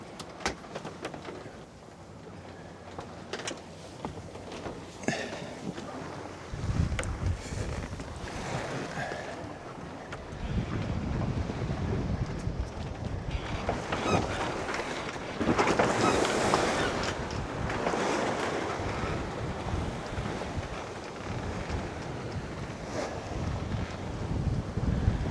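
A sailboat under way with full main and genoa at about eight knots, with steady wind rushing across the microphone and waves washing along the hull, surging louder in gusts; no one speaks.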